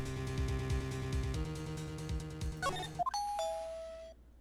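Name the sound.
doorbell ringing, from video game Ace Attorney Trials and Tribulations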